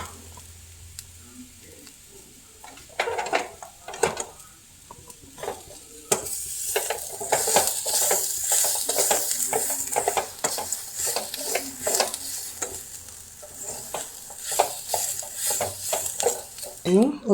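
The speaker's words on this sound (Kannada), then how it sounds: "ಒಗ್ಗರಣೆ ಹಾಕ್ತಾ ಇದ್ದೇನೆ ಚಿಕನಿಗೆ" Chicken getting its tempering in a pan: hot oil sizzles and crackles while a spoon scrapes and stirs in quick irregular strokes, loud and close, with someone speaking over the cooking.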